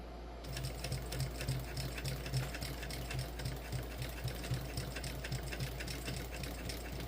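A sewing machine backstitches a crossbody bag, its needle running in a fast, steady mechanical patter up close, continuous and fairly quiet, with no voices.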